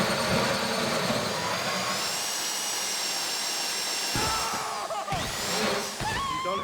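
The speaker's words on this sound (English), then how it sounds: "That drill got another gear? Come on!" Heist drill in the video game GTA 5: a continuous loud mechanical whine and engine-like drone that shifts pitch, dips and rises again near the end, with no speech.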